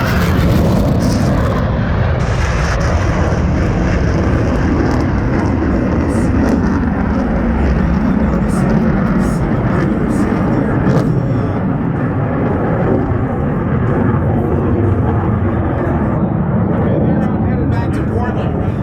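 Oregon National Guard F-15 Eagle jets with twin Pratt & Whitney F100 turbofan engines roar continuously and very loudly at an airshow in McMinnville. A loud, broadband jet rumble fills the whole span.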